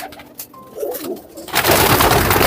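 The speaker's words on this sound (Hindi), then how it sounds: "बहुत पक्के कबूतर हैं ये इलाहाबादी गर्रे कबूतर" Allahabadi garra pigeons coo in soft, repeated calls at close range, followed by a louder burst of broadband noise near the end.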